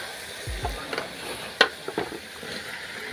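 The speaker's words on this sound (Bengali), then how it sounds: "এখন ভালো করে এটা আমি আরও কষিয়ে একবারে উনিয়ে নেব" Masala paste for silver carp curry fries and is stirred in a pan, soft sizzling broken by scattered scraping clicks and one sharp clack of the spoon against the pan.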